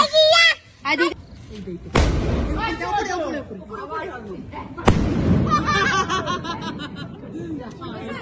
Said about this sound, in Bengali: বাজি ফাটাই, বাজি ফাটাই, বাজি ফাটাই